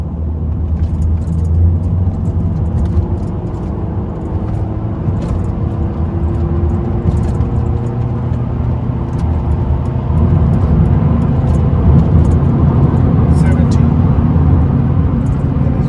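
A Mercedes A200 W169 car engine drones and rumbles steadily while driving, revving to 4,500 rpm, with road noise throughout and a slight rise in intensity toward the end.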